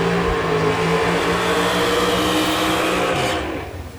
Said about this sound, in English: The boys are having fun with their burnouts tonight